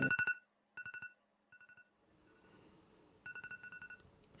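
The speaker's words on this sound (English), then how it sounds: "I have the same alarm on my phone." A phone alarm tone plays in short bursts of rapid repeating beeps separated by brief pauses, fairly quiet, with a faint background murmur between the bursts.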